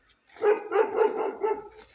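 A dog barks several times in quick succession, moderately close, after a moment of quiet.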